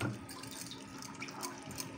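Soaked sago pearls draining in a strainer, water trickling and splashing steadily and softly at close range with no talk, a continuous running-water wash throughout.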